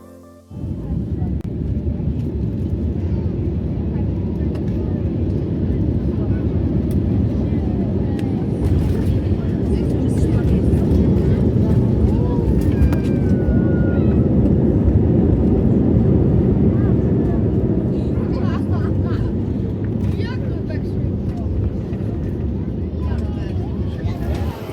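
Wizz Air Airbus A321neo descending on approach to runway 07 at Luton, heard from inside the cabin as a steady, loud engine and airflow roar that holds unchanged throughout.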